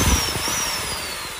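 A 350 W Hitachi electric drill with a 10 mm chuck and trigger speed control, rated 1100 rpm, runs steadily with a whining motor hum and a high tonal whine that drifts slightly as the trigger eases, alone and close.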